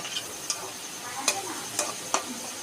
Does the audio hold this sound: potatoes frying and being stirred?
yes